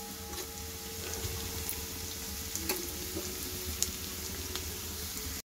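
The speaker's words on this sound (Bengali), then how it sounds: "দেখো এখানে মাছের ঝালের সুন্দর করে মশলা আমার এখানে কষানো হয়ে গেছে" Fish curry spice paste frying in a pan, with potato and pointed gourd about to go in: a steady, dense sizzle and crackle running without break, with small pops and a few faint stirring clicks.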